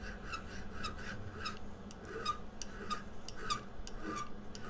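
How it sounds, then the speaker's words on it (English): Hand file rasping a flat spot on a metal ring shank, quiet rhythmic strokes repeating about twice a second, close and isolated with no talk. "So I want to file a flat spot right in the middle."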